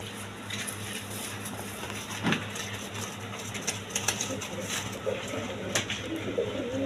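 Caged pigeons of a good breed coo softly in a large cage, low repeated murmurs under a steady background hum, with occasional brief flutters and clicks.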